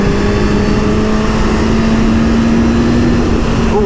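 A Suzuki GSX-S 1000 motorcycle engine holds a loud, steady high-revving drone during a wheelie, close and constant, with a quick pitch shift near the end.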